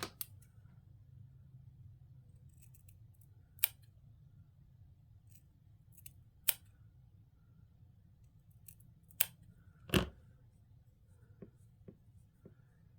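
Scissors trim the bristles of a broom, giving a handful of separate sharp snips spaced seconds apart, close by over a low steady hum, with one louder crunchy cut near the end.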